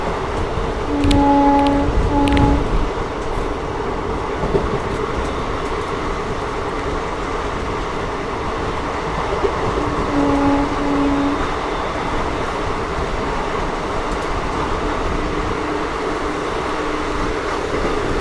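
Mysuru-Renigunta weekly superfast express train running through a station, a steady loud rumble of wheels and carriages throughout, with brief horn-like tones early on and again midway, no speech.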